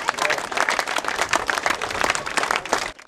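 Schoolchildren at the Khasanai school in Dagestan's Babayurt district give a steady ovation for visiting wrestling champions, a dense, fairly close wash of many small hands clapping with no break for about three seconds.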